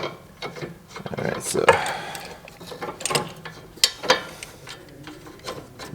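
Ratchet wrench working the sway bar link nut on a Honda CR-V front suspension, heard as close, irregular bursts of clicking with clanks. Someone speaks briefly over it.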